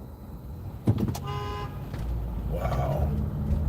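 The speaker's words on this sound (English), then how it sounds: "Somebody's in a rush at 4:27 in the morning. Literally honked as soon as the light turned green." A car horn honks at a green light on a New York street before dawn, giving a couple of short toots and then a longer blast, over nearby traffic noise.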